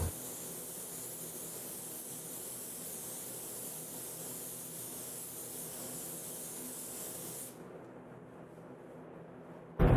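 Steady hiss of a paint spray gun laying down BASF ground coat during a basecoat blend, close and continuous for several seconds before cutting off abruptly near the end.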